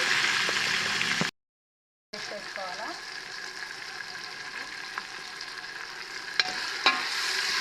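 Ginger garlic paste sizzles steadily in hot oil while frying for a farm chicken biryani, a continuous broadband hiss with a brief dropout and a couple of small clinks near the end.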